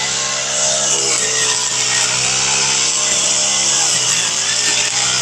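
A motorized press cutter clears bitter gourd plants, giving a steady, loud whining engine drone with strong harmonic tones that dips slightly in pitch near the end.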